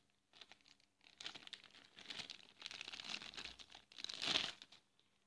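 A small plastic packet of a natural cosmetics ingredient crinkles as it is handled, with close, quiet bursts of rustling and crackling that build to a louder crunch near the end.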